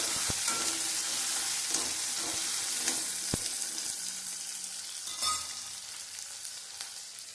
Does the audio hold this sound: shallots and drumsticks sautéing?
yes